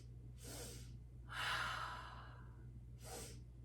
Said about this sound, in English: Once more, inhale, inhale, inhale, slow exhale.